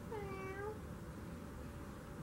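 A person imitating a cat's meow during a children's animal yoga class in a yurt, a single drawn-out falling meow, brief and clear over a quiet room.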